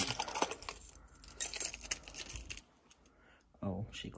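Metal keys jangling and clinking in short bright bursts inside an antiques shop, close by, with a brief pause before a final rattle.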